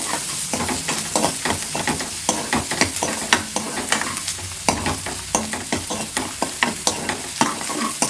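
Onions sautéing in oil in a pan, cooked lightly to medium for a yogurt pachadi, with steady sizzling and frequent close scrapes and clacks of a spoon stirring in a regular rhythm.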